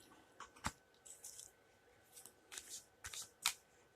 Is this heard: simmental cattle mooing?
no